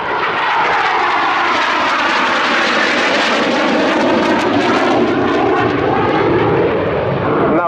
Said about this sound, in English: Now the aircraft will go into the close circling, which demonstrates the capability or the agility of the airframe